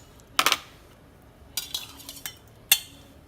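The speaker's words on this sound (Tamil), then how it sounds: "கிளாஸில் ஊற்றியில வெயில் காலம்னால நம்ம ஐஸ் க்யூப் போட்டுப்போம்" Ice cubes drop into a glass for lemon juice in a home kitchen, giving three separate bursts of bright clinking and rattling with quiet gaps between them.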